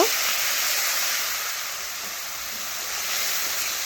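Water poured into hot oil with fried turmeric powder makes a loud, steady broadband hiss and sizzle that fills the whole stretch, easing slightly in the middle and swelling again toward the end.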